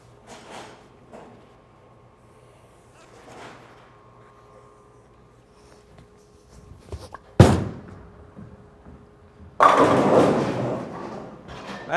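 A Hammer Anger Solid bowling ball thrown down a lane: a sharp thud as it lands, then a low rolling rumble, followed by a loud crash of pins near the end, with no talk.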